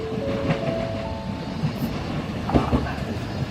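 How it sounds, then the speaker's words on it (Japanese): An up train pulling into platform 2 at a Japanese station, a steady rumble and rolling clatter with faint squeals and a louder knock partway through, fairly close, with no one talking. "まもなく2番線に上り列車が入ります。"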